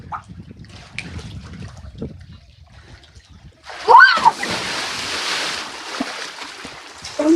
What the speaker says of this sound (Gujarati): આપણે કિશનભાઈ ધુપકો મારવા જાય